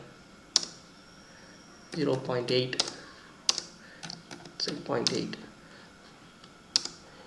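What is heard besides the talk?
typing values on a computer keyboard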